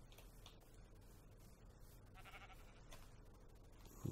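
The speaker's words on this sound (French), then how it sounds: "Allez, mouton, t'enfuis pas quand tu me vois arriver." Sheep bleat faintly in Minecraft, the short blocky bleats sounding over a low, steady game background, with no speech.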